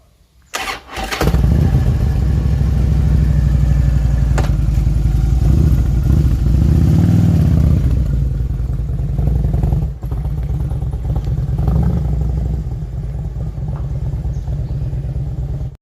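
A motorcycle engine cranks, catches and settles into a loud, close, steady idle with a low rumble that carries on unbroken, and no one speaks over it.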